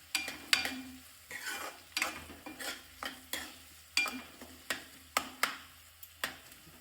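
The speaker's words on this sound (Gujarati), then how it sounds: "એ પણ સારી રીતે મિક્સ કરી દઈશું" Rhythmic scraping of a spoon stirring garlic and grated ginger in a curry pan, about a dozen sharp strokes over a soft sizzle, close and fairly loud with no voices.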